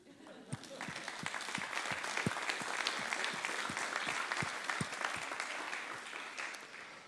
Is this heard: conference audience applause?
yes